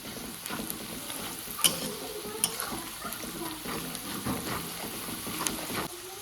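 Pasta sauce with garlic and turmeric sizzles and fries in a pan at close range, a steady crackle punctuated by sharp clinks and scrapes of a stirring utensil, with no talk.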